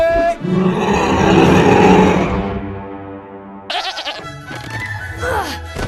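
A black sheep bleats from a scene in the animated film How to Train Your Dragon 2, a long wavering bleat that fades out, then a burst of louder, busier animal and crowd noise.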